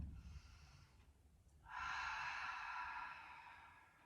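Deep, slow breath during a gentle beginner's yoga session in mountain pose, a soft airy inhale followed by a longer, louder exhale, close and alone.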